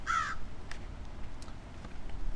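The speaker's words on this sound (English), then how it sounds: "And the birds agree, apparently." A single loud crow caw rings out right at the start, short and harsh, followed by quiet outdoor background with a few faint distant clicks.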